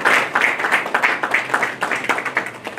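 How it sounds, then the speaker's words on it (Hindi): Audience applause at a Rotary Club meeting during a district governor's official visit: a steady burst of many hands clapping together, dense and close, sustained for the whole stretch with no voices over it. "कृपया तालियों से हमारे मंडल सचिव जी का"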